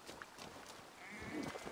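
A sheep bleats faintly in the video game Assassin's Creed Valhalla, a short, quiet call amid soft game ambience.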